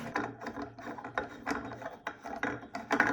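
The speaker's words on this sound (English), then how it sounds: "first of all, let's remove the bulb" A light bulb being unscrewed from a broken lamp socket at home: close, uneven gritty scraping and ratcheting clicks of the threaded base turning, in short irregular bursts with no talking.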